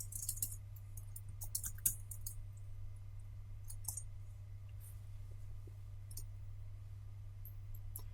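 Computer mouse clicking through export menus in Lightroom photo-editing software: faint, sparse, scattered clicks over a steady low electrical hum, with no talk.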